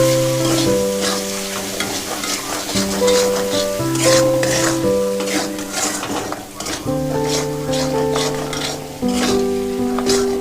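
Spices with tomato for a Sundarbans crab curry sizzle steadily in a pan while a spoon stirs and scrapes repeatedly, with music playing underneath.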